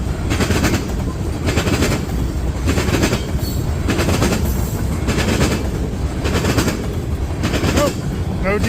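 A freight train rolls past close by on the rails with loud, regular clickety-clack as the wheels cross the rail joints, beating steadily under a constant heavy rumble.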